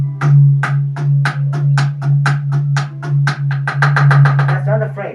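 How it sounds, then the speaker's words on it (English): A drumstick taps the plastic frame of an electronic drum kit in a steady run of about a dozen sharp, close clicks that quicken toward the end, over a constant low hum. "That sound is the sound of the stick hitting the actual plastic, not the sound of the drum."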